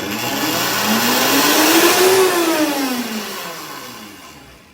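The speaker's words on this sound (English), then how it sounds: "we're gonna put this back in the Vitamix" A Vitamix blender whirs with its dry grain container fitted, the motor rising in pitch to a loud peak, then winding back down over a few seconds, with no voices.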